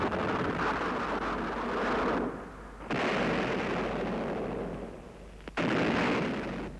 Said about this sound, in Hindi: दोनों ओर से तोपें चलने लगीं।